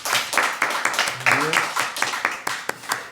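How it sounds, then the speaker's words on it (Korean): Rhythmic clapping from a church congregation during a Thursday worship service, a series of distinct claps in a fairly regular beat with a voice speaking briefly over it. "우리 주님 앞에 영광 박수 올려드리겠습니다."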